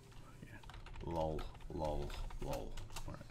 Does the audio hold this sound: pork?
no